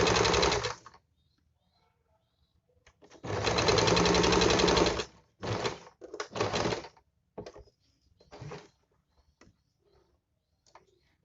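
A sewing machine stitches the side slit of palazzo pants in short bursts: one brief run, then a longer steady run of a couple of seconds, then several quick stop-start runs, close and alone.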